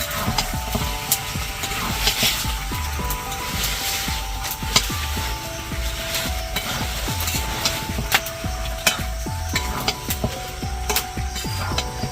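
Chicken meat goes into frying masala with yogurt for a chicken curry, sizzling continuously in the pan while a spoon scrapes and knocks in a steady stirring rhythm, close and loud.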